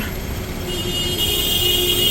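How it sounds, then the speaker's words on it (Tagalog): Road traffic on a rainy street in Hong Kong makes a steady, dense wash of engine rumble and wet hiss that never lets up, with no distinct single vehicle standing out. "Uy, ang ingay nung sasakyan."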